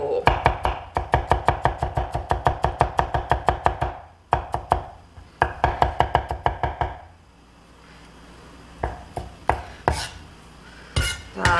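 A knife strikes a cutting board in fast, even strokes while green bell pepper is cut into thin strips and then minced, loud close chopping in two long bursts, followed by a pause and a few scattered knocks.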